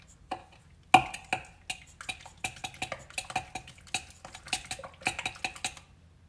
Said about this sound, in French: Je vais mélanger un peu l'œuf.